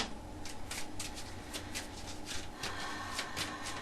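Tarot cards being shuffled in quick repeated riffles, a crisp papery flutter close by, with a low background hum and no talking.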